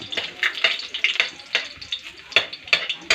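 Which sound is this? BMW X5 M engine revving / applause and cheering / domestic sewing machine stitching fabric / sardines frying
sardines frying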